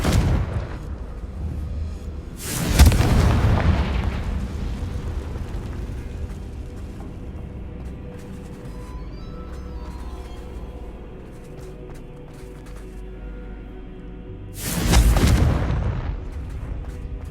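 Two loud, booming explosions from the Confringo blasting spell in the video game Hogwarts Legacy, each a sharp burst with a rumbling tail, separated by about twelve seconds of low game ambience.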